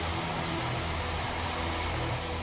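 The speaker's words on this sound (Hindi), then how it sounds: "अटैक हेलीकॉप्टर से घिरा ये Mi-17 V5 हेलीकॉप्टर आखिर यूक्रेन में डॉनबास के एक सीक्रेट मिलिट्री बेस जा रहा था।" A Russian Mi-17 V5 military helicopter flies in a convoy escorted by attack helicopters, bound for Donbas. It makes a steady, loud, close rotor and engine roar that holds even throughout, with no voices.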